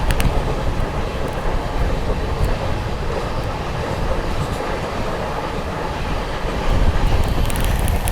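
The 20504 New Delhi–Dibrugarh Rajdhani Express approaches with a loud, continuous rumbling roar that holds steady throughout, mixed with wind buffeting on the microphone.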